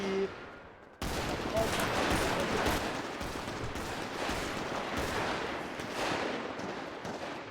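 Rapid bursts of automatic gunfire in a video game roleplay server hospital raid, loud and continuous after a sudden start, with dense overlapping shots and no speech.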